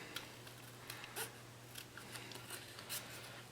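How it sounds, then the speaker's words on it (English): Scissors snip around a paper Valentine tag card shape in short, repeated crisp cuts, close and fairly quiet, with a steady low hum beneath. "I'm cutting around this shape"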